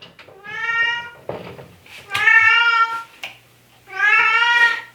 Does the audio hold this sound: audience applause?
no